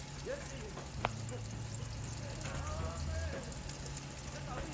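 A Sicilian pizza in the oven gives off a continuous soft sizzle and crackle, fairly quiet and steady, with a low hum beneath it.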